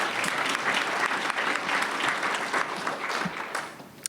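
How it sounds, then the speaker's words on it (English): Dense, steady audience applause fills a retirement celebration for a nonprofit president, many hands clapping at once in a sustained wash that holds for about four seconds before easing slightly at the end. "A round of applause for that,"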